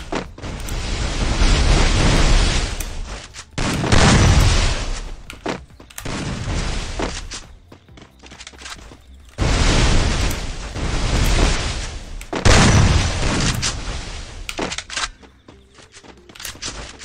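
Gunfire in the battle-royale game Free Fire: repeated bursts of loud shots and explosive pops, arriving in dense clusters separated by brief lulls, with no talking over them.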